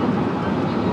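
The 19th-century Penang Hill railway train runs with a loud, continuous close-up rumble and rattle of the carriage, steady throughout with no pauses.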